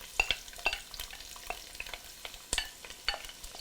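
Finely sliced onion frying in melted coconut oil in a pot, giving a soft, quiet sizzle with light stirring scrapes and small irregular clicks, close up with no voices.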